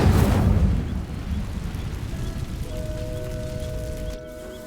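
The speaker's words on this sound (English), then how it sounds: "These dry vines are one spark away from becoming kindling. Incendio." In the Hogwarts Legacy video game, an Incendio fire spell ignites dry vines with a loud burst, then a roaring whoosh of flames that settles into a steady rumble with faint magical tones.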